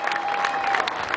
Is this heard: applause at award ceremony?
yes